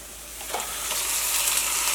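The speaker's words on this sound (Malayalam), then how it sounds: "ഇനി നമ്മളിതിലേക്ക് നമ്മൾ മാരിനേറ്റ് ചെയ്ത് വെച്ചേക്കണ ചിക്കൻ ഉണ്ടല്ലോ, ചിക്കൻ ചേർക്കാണ്." Marinated chicken fries in a pan with ginger garlic paste, a close bright sizzle that swells steadily after a brief splattering burst near the start.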